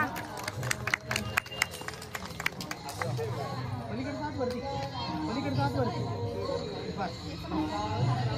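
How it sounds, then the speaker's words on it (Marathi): Hands clap in a quick, uneven burst for the first few seconds at a 25th wedding anniversary celebration. Steady crowd chatter and talking carry on underneath and continue after the applause fades. "टाळ्या वाजवा, टाळ्या वाजवा."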